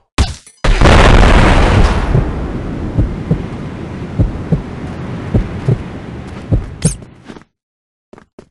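A grenade explosion in the Crossfire shooter game: one loud, deep boom with a long rumbling tail, followed by several sharp thuds and a brief high burst before the sound cuts to silence.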